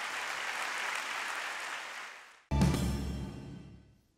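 Applause in a parliament chamber, a thick sustained burst of many hands that gradually fades, then cuts to a second loud outbreak of clapping that tapers off.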